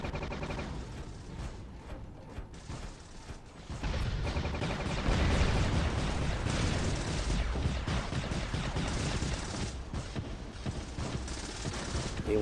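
Robot weapons fire in a War Robots test-server match, rapid dense bursts of gunfire and explosions that build in intensity and continue without pause.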